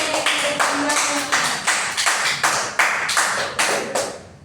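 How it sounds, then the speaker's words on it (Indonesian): Rhythmic classroom clapping for a student group after their answer, with a roughly steady beat of loud, close claps repeating about twice a second in unison before ending abruptly. "Oke, terima kasih atas jawaban kelompok 1. Beri tepuk tangan."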